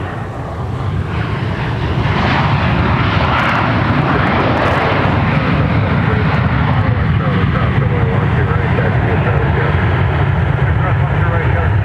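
An American airliner takes off at Minneapolis–St. Paul Airport, its engines a loud sustained roar that builds over the first two seconds and then holds steady, with a voice heard faintly under the noise.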